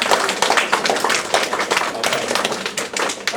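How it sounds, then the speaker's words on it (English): Students standing in a lecture room clap for one another in a brisk, close burst of sharp, rapid hand claps lasting a few seconds. "give everyone else a round of applause"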